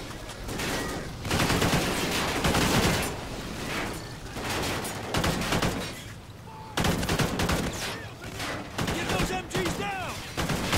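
Machine gun fire in Call of Duty: Ghosts rattles in rapid bursts with explosions, loud and continuous with brief lulls, while a player talks over the battle.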